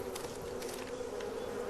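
A swarm of African bees protected in a hollow tree gives off a dense, continuous buzzing drone, faint and steady, with no voices.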